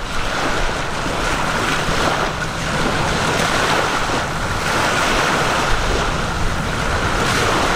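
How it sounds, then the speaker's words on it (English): Ocean surf rolls and breaks steadily on an outdoor shore, a continuous wash of waves with light wind buffeting, heard through a compact shotgun microphone fitted with a wind muff. "a nice little outdoor test here with a little bit of wind and the sound of the waves"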